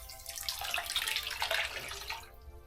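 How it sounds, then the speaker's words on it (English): Hot water runs from a tap into a plastic tote, a steady rushing, splashing pour that fills the space alone before cutting off near the end. "let's go ahead and fill that up with some hot water"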